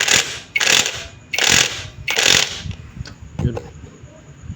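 An impact wrench rattles in four loud bursts while loosening the oil strainer plug on a Honda ADV150 scooter, followed by a few lighter metallic clinks.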